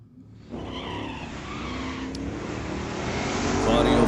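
A Pontiac GTO and a 1969 Chevelle launch at an old-time drag race, engines roaring loud and rising as they pull away, with a brief tire chirp and a commentator faintly heard.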